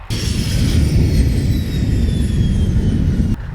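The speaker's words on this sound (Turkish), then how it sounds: "uçak geliyor" A small airplane drones steadily as it arrives at a dirt airstrip on the Kenyan savanna near the Tanzanian border, a loud, continuous engine roar that cuts off abruptly near the end.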